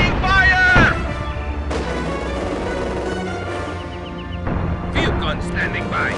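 Gunfire and artillery from the Stalingrad setting of the video game Company of Heroes: dense, loud battle noise with heavy booms and overlapping shots. Game voices shout over the din throughout.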